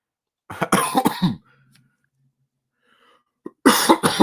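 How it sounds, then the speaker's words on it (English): A burst of harsh coughs close by, then near silence, then another run of coughing starts up again. "Sorry, coughing."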